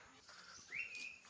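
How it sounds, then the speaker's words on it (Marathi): A single bird gives a brief rising whistle-like call in a quiet village at evening, faint against soft background ambience. "पक्षी ओरडतोय"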